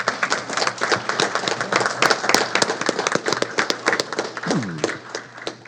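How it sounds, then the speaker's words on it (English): A room at a city council meeting breaks into a round of applause, with many sharp individual claps layered into a dense, lively burst and a few voices mixed in. "Can we have one more round of applause for everybody?"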